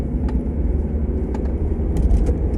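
Road traffic rolling past outside, a steady low rumble of car engines and tyres that stays loud and continuous throughout, with a few faint higher clicks and rattles on top and no voices.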